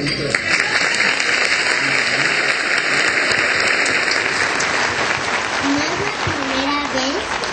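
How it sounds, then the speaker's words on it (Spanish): A crowd of retirees applauds steadily at a rally outside Mexico's Supreme Court of Justice. Dense, sustained clapping fills the air, with voices and scattered shouts mixed in. "Un aplauso."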